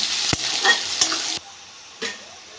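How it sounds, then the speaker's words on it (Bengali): Onion frying in oil with whole cumin seeds in a pan, a brief close sizzle punctuated by a few sharp stirring knocks before the hiss drops suddenly, then one more short scrape. "পেঁয়াজটা একটু ভেজে দেবো।"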